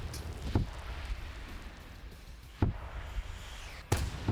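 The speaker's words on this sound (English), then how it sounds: "More rockets coming in." Three sharp, widely spaced explosive blasts from rocket fire in a multiplayer video game battle, each a sudden crack that decays quickly over a low, steady background rumble.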